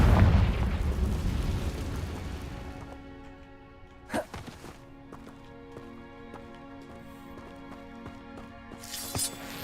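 Confringo spell explosion in Hogwarts Legacy: a heavy booming blast that fades over a few seconds, then one sharp impact crack and later a brief bright burst near the end.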